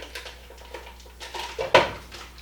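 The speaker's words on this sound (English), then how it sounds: "go over here to my pot and put my butter in" Butter dropped into a cooking pot for no-bake chocolate oatmeal cookies, a soft clunk and brief clatter of pot and utensil near the end, following quieter kitchen handling sounds.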